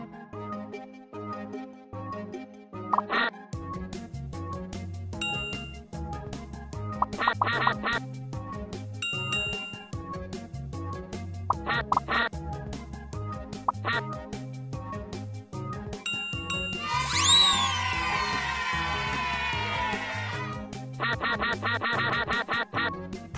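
Cartoonish electronic duck quacks from the game Teach Your Monster to Read pop up in short bursts over a looping chiptune melody, with chimes and a rising flurry of notes near the end.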